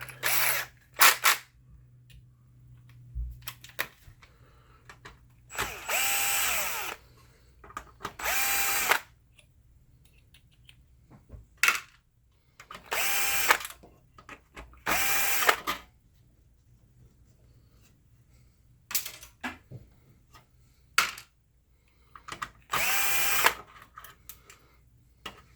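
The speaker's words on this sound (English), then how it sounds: "I'm gonna use the drill." A cordless power drill drives 5 millimeter screws during a Mitsubishi WD720 TV repair, with several short whirring bursts separated by quiet pauses, close and fairly loud.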